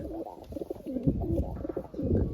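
Pigeons cooing on a rooftop, several soft repeated coos overlapping close by, continuous and steady with no talk.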